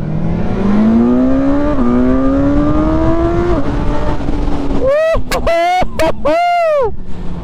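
A BMW S1000R motorcycle engine winds up through rising revs with a gear shift, the pitch climbing steadily, then a rider talks loudly over wind noise as the engine note continues underneath.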